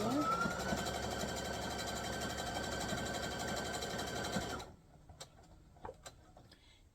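A sewing machine runs a straight stitch along fabric with a fast, steady whirring chatter, close and continuous for about four and a half seconds before stopping, followed by a few faint clicks and handling sounds.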